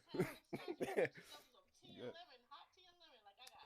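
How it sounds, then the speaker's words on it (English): Several harsh coughs burst out near the start, followed by someone speaking quietly in a hoarse voice. "Forgive me if I disrupt with my coughing."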